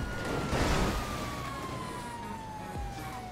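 A police car siren in the video game GTA 5 wails steadily with a slowly falling tone over constant traffic and engine noise, loud and close, with no voices.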